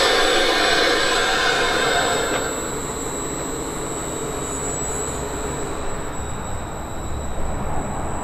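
A train rumbles and pulls away near Lake Garda, Italy, with a high whine and metallic squeal over a steady low roar, no voices.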